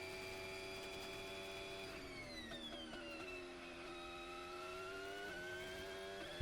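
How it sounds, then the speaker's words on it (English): A Formula 1 car goes through a qualifying corner, its engine note sliding down under braking, then holding a steady, rising whine as the throttle comes back on. Continuous and fairly distant, with no voices. "listen to where Lando brakes and listen to where he applies the throttle"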